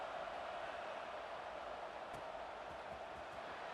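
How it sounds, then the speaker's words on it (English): A stadium crowd buzzes in the EA Sports College Football 26 video game, a steady, dense wash of distant voices and noise that holds at an even level throughout, with a few faint thumps underneath. "this crowd is buzzing after that last score"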